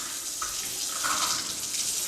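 Water runs steadily from a hot tap after the supply pressure is restored, a continuous soft hiss and splash with a slight swell partway through, fairly faint and with no talking.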